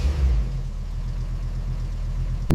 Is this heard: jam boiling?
no